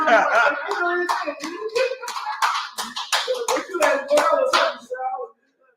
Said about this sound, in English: What you clapping for?